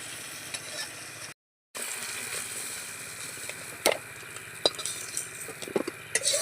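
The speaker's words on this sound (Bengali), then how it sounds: "এগুলো বাকি ছিল একটু ওই জন্য ভেজে নিচ্ছি" Crabs fry in a hot pan with a steady, dense sizzle, broken by a short gap and by occasional sharp clinks and scrapes of a utensil against the pan, heard up close with no talking.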